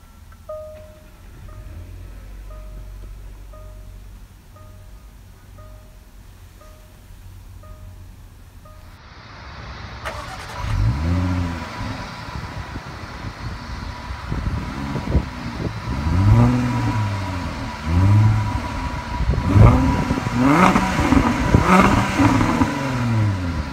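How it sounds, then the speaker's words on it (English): Soft repeating chimes play, then a 2016 Jaguar XJL Portfolio engine turns over and push-button starts, followed by several loud revs rising and falling in pitch. "To start the engine, simply push your foot down the brake and press the start button"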